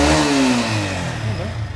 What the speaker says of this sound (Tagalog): Tapos kahit ibirit natin yung makina, tahimik lang.